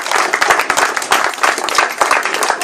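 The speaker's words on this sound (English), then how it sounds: "If the boys could give Brett a round of applause" A small crowd at a junior team presentation day claps briskly in a dense, close burst of applause with sharp individual hand slaps.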